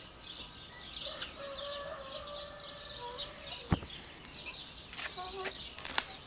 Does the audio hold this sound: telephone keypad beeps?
no